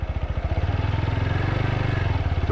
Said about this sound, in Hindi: बेसिकली अभी हमारा बाइक फर्स्ट गियर पर है